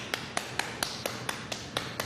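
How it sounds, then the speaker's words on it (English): Young children aged four to six clap together in a virtual class, about nine sharp, evenly spaced claps in a steady rhythm, fairly faint and with no talking. "what does it sound like when everybody's clapping?"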